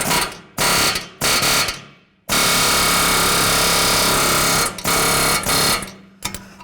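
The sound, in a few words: air chisel driving against ball joint stud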